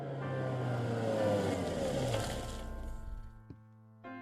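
A vehicle engine in Gabriel Knight 3 that is clearly no moped, a loud sustained roar with shifting pitch that slowly fades and settles into a steadier drone, with no voices.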